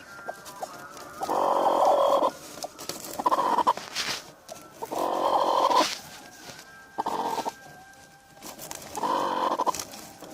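A broody hen sitting on twelve chicken eggs in a coop gives repeated loud, close clucking bursts separated by short quiet gaps.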